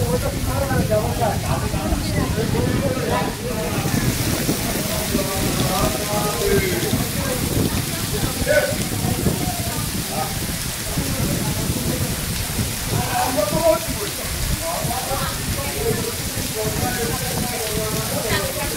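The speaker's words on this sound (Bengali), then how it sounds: "মেঘ ডাকছে, এই জোরে বৃষ্টি চলে এসছে" Heavy rain with thunder pours at a Ganges riverside ghat in Sodepur in a dense, continuous hiss with low rumbling underneath, while people talk over the downpour.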